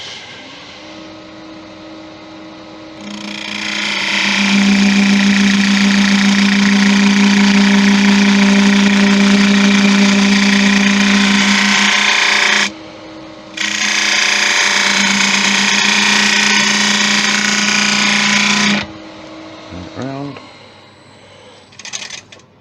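Wood lathe spinning driftwood as a spindle gouge takes a finish cut, a loud steady motor hum with a harsh scraping hiss that stops briefly, resumes, then winds down.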